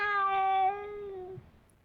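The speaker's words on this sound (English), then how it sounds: "That's the kitty cat." A cat gives one long, loud, harmonic meow that slides slightly down in pitch before tapering off, close by and with no talking over it.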